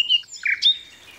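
Bright, high bird chirps and a short twittering song from a cartoon bird in a forest setting, clear and close with a few quick tweeting phrases and no talk.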